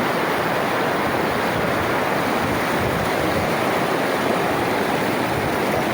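Rushing water of a strong river current in a rocky river roars steadily and loudly, a dense, unbroken wash of churning current with no voices.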